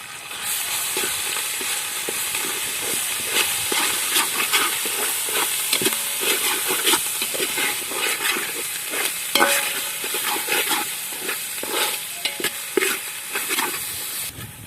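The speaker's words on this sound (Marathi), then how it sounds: "तर आता हे पेस्ट पण थोडा वेळ तळून घेणार आहोत" A paste of garlic and ginger sizzles in a hot pan for a chicken dish, with steady frying hiss and repeated scraping stir strokes close by.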